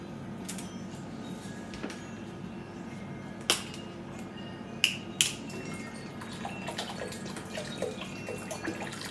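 Water is poured into a pot of homemade chili, a steady close hiss and splash lasting throughout with a few sharp clinks and drips along the way, no voices.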